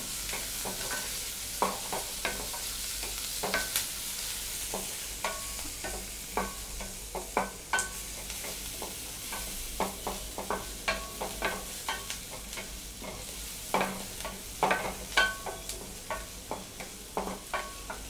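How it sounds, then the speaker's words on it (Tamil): Shallots fry in oil in a pan for Tamil uppu paruppu dal gravy, with a soft sizzle under repeated spatula scrapes and clinks against the pan in an irregular, steady rhythm. "இப்போ சின்ன வெங்காயம் போட்டாச்சு. நல்லா மிக்ஸ் பண்ணி விட்டுக்கோங்க."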